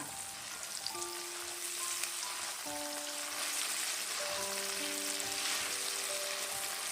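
Tofu fries with chopped scallions in a pan, giving a steady, soft, even sizzle that carries on throughout, with faint tonal background music underneath.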